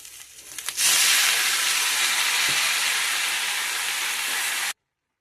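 Drained leafy greens (note shak) dropped into hot oil for a bitter greens dish with fish head, a sudden loud hiss that bursts up and then sizzles steadily before cutting off abruptly.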